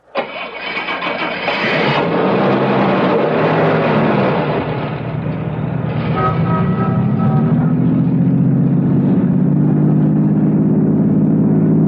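A car engine cranks and catches in a radio drama scene, then revs and settles into a steady driving drone, loud and close, with the pitch climbing as the car pulls away.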